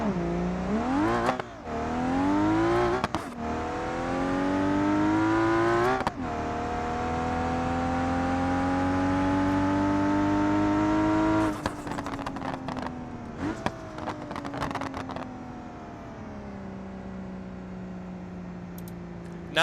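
A Barra-swapped wagon's engine revs hard in BeamNG.Drive with nitrous, climbing in pitch through several gears, each shift marked by a quick drop before it pulls again, loud and close for the full run.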